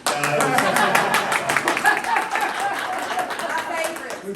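Modest, scattered clapping from an audience at a realtor seminar on the appraisal process, a fairly thin round of claps with some murmuring voices underneath.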